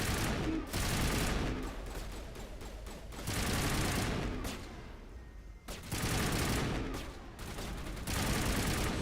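Bursts of rapid gunfire in a shooting video game, loud volleys separated by short pauses, with dense sustained firing at the start and again toward the end.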